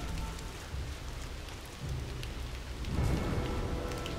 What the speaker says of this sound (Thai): ว้าว ฝนตกหนักซะด้วย